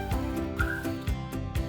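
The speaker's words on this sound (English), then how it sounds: "that whistle coming from your toilet" A toilet gives off a high, steady whistle in an upstairs bathroom. The tone sits over a rumbling background and is broken by a few regular thumps.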